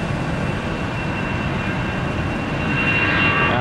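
An Allegiant Airbus A320 jet airliner, lightly loaded, departs Northern Kentucky International Airport (CVG), a steady loud engine roar that swells slightly toward the end with no talking.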